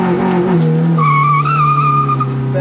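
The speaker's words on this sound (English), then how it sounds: "So watch this rev limiter." A 2003 Honda engine holds against its rev limiter on two-step launch control, making a loud, steady, buzzing drone that stays close and continuous for the whole stretch.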